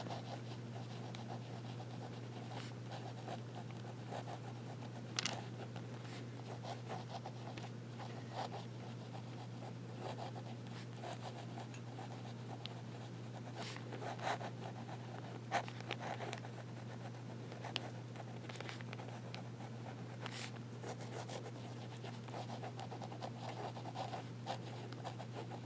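A Scripto fountain pen nib scratches softly across paper in reverse strokes, a faint, close, irregular scratching over a low steady hum.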